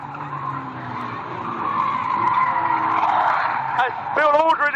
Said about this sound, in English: As Bill Aldred is spun round big time. He's done a 360